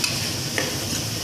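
Vegetable biryani ingredients with split chilies being stirred in a hot pan: a close, continuous sizzle with light scraping strokes from the spoon.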